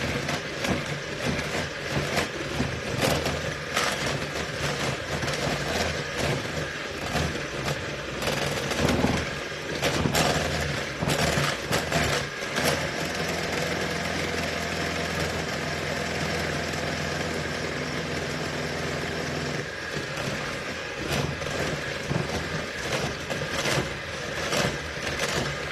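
An electric mixer running on high, beating butter for a banana upside-down cake: a loud, continuous mechanical whir with rattling bursts and slight shifts in pitch, sustained close up throughout with no talking.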